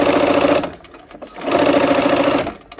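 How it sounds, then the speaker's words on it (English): A sewing machine stitches a black fabric strip onto a blue sky quilt section, running in two steady whirring bursts separated by a short pause, close and alone. "we're gonna go sew this black strip to that blue sky section"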